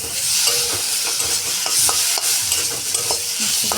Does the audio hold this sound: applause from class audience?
no